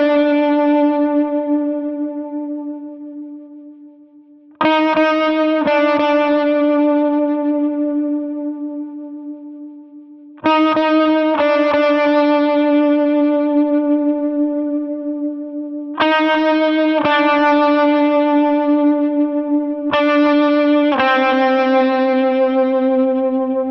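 Electric lead guitar part through effects with distortion, echo and chorus: long sustained notes ringing out, with a few fresh picked attacks every several seconds, loud and alone.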